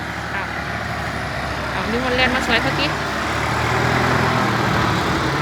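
A farm tractor working in a Thai sugarcane and cassava field to pull down large trees, its engine a steady low rumble throughout, growing slightly louder toward the end, with someone talking over it.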